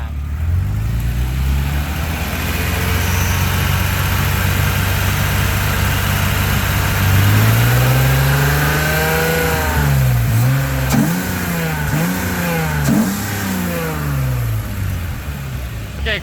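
A high-mileage BMW M3's engine idles close by, then rises to a held higher rev and is blipped up and down several times, with a person talking over it.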